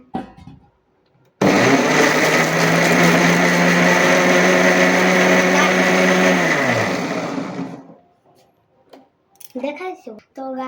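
A mixer grinder whirs loudly and steadily for several seconds while blending a homemade ice cream mixture, then spins down and stops, with people talking before and after.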